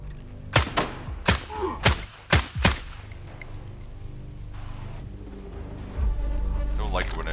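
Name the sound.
hand grenade explosions in the video game Stalker 2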